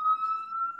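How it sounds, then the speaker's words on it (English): Emergency vehicle siren on a New York street, a single steady high wailing tone held clearly throughout with faint upper harmonics, heard alone and fairly loud. "Apologize for the siren."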